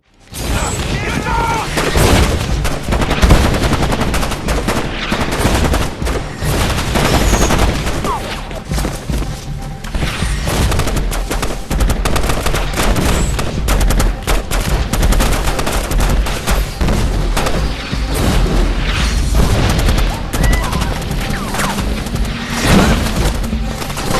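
Sustained gunfire rages through a film firefight between soldiers, dense bursts of rifle and machine-gun shots with booms, loud and unbroken, while a voice talks over the battle.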